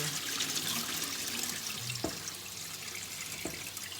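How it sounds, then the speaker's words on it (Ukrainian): Water pours and splashes steadily from a pot, a soft continuous rush with a couple of faint knocks. "Ми цю воду зливаємо і набираємо свіжої."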